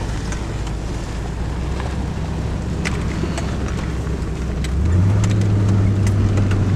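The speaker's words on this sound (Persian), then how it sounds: "این ماشین 8 سیلندر و 4 ویل درایو" An eight-cylinder four-wheel-drive car drives along outdoors with a steady engine drone and wind noise, its engine note rising and growing louder near the end.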